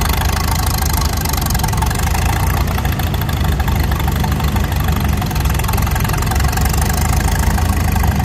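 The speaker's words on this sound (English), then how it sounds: "here's the tractor we saw last year at the Chapter 16 plow day, a 284." At a plow day, the engine of a vintage farm tractor, a 284, runs steadily in the field, giving off a continuous rough, knocking chug with outdoor noise and no clear talk.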